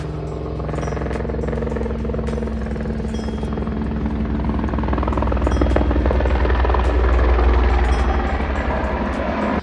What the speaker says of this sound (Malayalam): ഹെലികോപ്റ്ററൊക്കെ ലാൻഡ് ചെയ്യുന്ന കാണാം കേട്ടോ